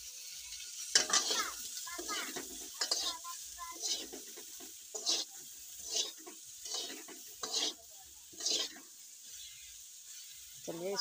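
Pointed gourd with turmeric and salt frying in a pan, giving a soft continuous sizzle broken by rhythmic spatula stirring strokes about once a second.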